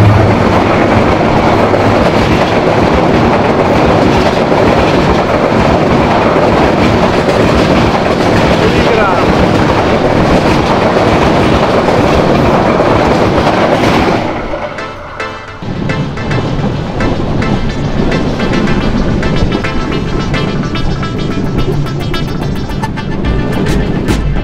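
Shilahati Express standing at Bhangura railway station in Bangladesh, waiting at a crossing: a loud, steady rumble of rail cars and engine fills the first half, then drops to a lighter, clattering hum with sharp ticks.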